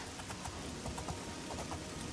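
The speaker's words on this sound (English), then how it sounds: "the tingling of the rain on my armor" Rain patters faintly on armor in Oblivion near the Imperial City, a dense, steady hiss flecked with small irregular taps and clinks.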